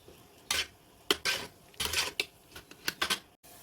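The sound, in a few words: stirring turmeric in boiling water in a pot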